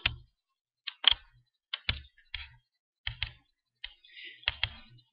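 Typing on a computer keyboard while searching a design library: separate bursts of sharp key clicks, a few quick taps at a time with short pauses between, close and clear with no talking.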